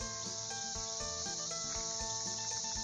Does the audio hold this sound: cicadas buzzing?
yes